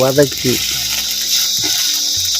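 Ginger and garlic sautéing in hot oil for a chutney, a steady broad sizzle running throughout with a few spoon clinks and scrapes near the start and middle.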